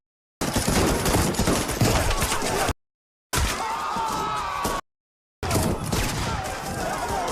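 Rapid bursts of gunfire crackle in three separate loud volleys, each a dense rattling barrage fired on a crowd in a film trailer, with short silent gaps between them.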